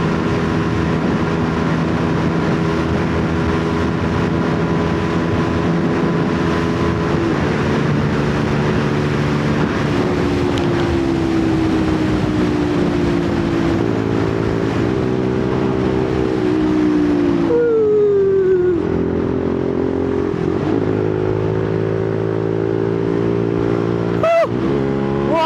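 A rare motorbike accelerates at speed, its engine a loud, continuous roar climbing in pitch through several gear changes, with heavy wind rush throughout.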